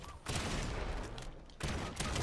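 A burst of rapid video game gunfire, loud and dense, runs for about a second, stops briefly, then starts again, while players talk over it.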